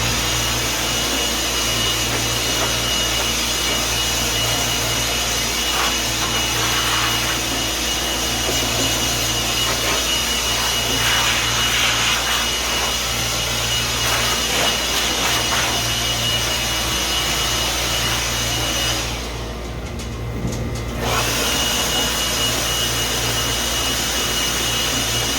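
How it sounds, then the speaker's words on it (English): A blower runs on its high setting inside a walk-in freezer to clear debris, making a loud steady roaring rush that continues unbroken for the whole stretch with a brief dip near the end. "I'm gonna go ahead and use my blower, which is right here, and we'll put it on the high setting and see if we can't get some of this stuff blown away."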